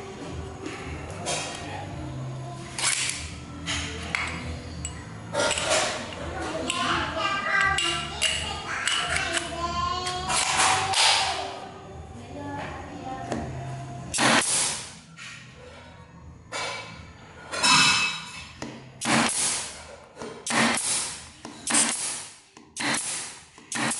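An F40 pneumatic nail gun firing 4 cm nails, giving sharp, loud percussive bangs one after another in an irregular rhythm, close by, with some talking between shots.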